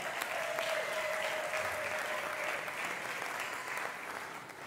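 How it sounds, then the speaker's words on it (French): A studio audience at a televised talent show semi-final gives sustained applause, dense even clapping that stays strong and then eases slightly toward the end. "que je vous prie d'applaudir, s'il vous plaît"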